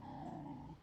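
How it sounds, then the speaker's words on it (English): Dogs playing with a stick in a backyard garden, giving low continuous growling with a steady tonal whine on top, close and fairly loud, lasting under a second with no talk. "the dogs are playing with a stick"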